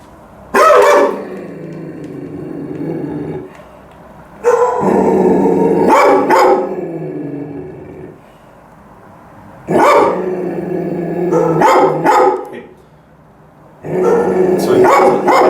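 A fear-aggressive dog bursts into loud, close barking and growling in four separate outbursts, each a few seconds long with snarling rumbles between sharp barks, separated by brief quieter pauses.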